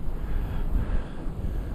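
Steady low wind rumble buffets the microphone outdoors while fishing in cold January conditions, a dull continuous roar with no voices.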